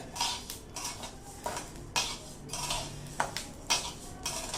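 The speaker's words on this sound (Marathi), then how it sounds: "थोडेसे हलके धणे भाजून घ्यायचे" A metal spoon scrapes and taps against a pan in a quick, repeated rhythm as seeds are stirred and roasted, fairly faint and close.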